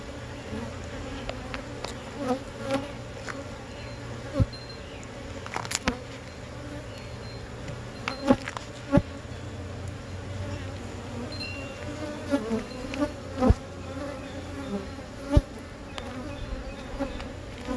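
A steady, close hum of many honey bees buzzing continuously at an open hive, with occasional louder individual buzzes and light clicks passing nearby.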